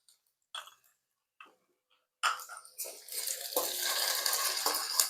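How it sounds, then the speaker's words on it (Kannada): Ginger garlic paste fries in a pan for chilli chicken. A few faint clinks come first, then a steady, moderately loud sizzle builds and holds to the end. "ಇವಾಗ ಕ್ಲೀನಾಗಿ ಫ್ರೈ ಆಗ್ತಾ ಇದೆ."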